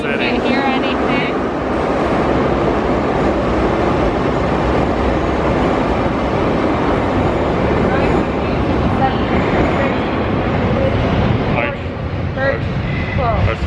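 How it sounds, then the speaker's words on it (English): A loud, steady rumble of a Kyiv metro train arriving at a station fills the space, with rushing wheel noise and faint squeals near the end. "Subway's gonna be here in"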